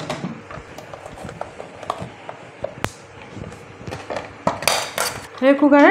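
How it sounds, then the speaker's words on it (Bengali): A metal lid goes onto a pressure cooker of khichuri, with scattered clinks and clatters of metal cookware building to a louder rattle. A voice speaks briefly at the end. "এবারে ঢাকা দিয়ে দেবো কুকারে।"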